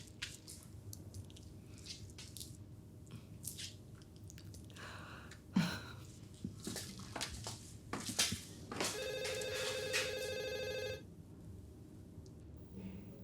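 A telephone rings indoors with a bright, buzzy electronic trill lasting about two seconds. Quiet rustling, handling noises and a couple of soft knocks come before it.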